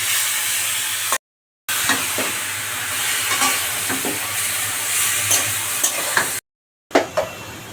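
Boiled and dried chalta pickle ingredients sizzle steadily in a hot kadai with whole dried red chillies and sauce, a constant loud frying hiss with occasional scraping stirs, broken by two short silent gaps.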